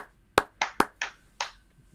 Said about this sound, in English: So let's do one, two, three, clap, clap, clap.